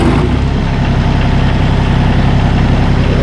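New Holland Workmaster 25S tractor engine starting and settling into a steady, loud, close diesel idle with a rumbling low throb that runs unbroken throughout.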